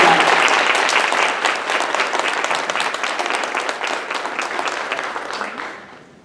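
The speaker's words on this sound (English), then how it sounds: "I'd like for you guys to give her a round of applause, Nadine Lee, president and CEO of DART" Conference audience at a women's business event applauds DART president and CEO Nadine Lee, a dense, loud burst of clapping that holds steady and then tapers off to silence at the end.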